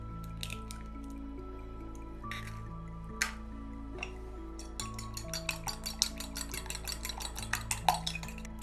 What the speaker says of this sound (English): Now I need to crack the eggs and break them up.